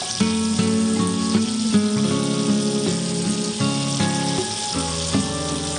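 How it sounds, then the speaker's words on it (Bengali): Chicken leg pieces fry in a pan in a cooking-show kitchen, a steady, continuous sizzle that stays loud throughout, with a tonal background underneath. "আর এই যে ভাজি, এতে তো চিকেন অর্ধেক সেদ্ধ"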